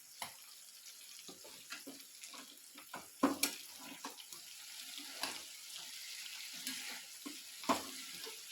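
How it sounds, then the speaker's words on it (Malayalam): Potato and onion sautéing in a pan for a village-style stir-fry, a soft, low sizzle with intermittent scraping and stirring clatters, close and fairly quiet, with no talking. "അതിനകത്തോട്ട് ഇനി സവോളയും കൂടെ ചേർത്ത് ഇനി നല്ലപോലെ വഴറ്റിയെടുക്കുക"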